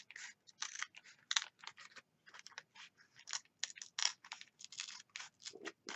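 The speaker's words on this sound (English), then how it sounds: "And take your scissors and just cut that off." Quick, crisp snipping of scissors through a thin paper cupcake liner, many small cuts in an uneven rhythm, close and quiet with no voices.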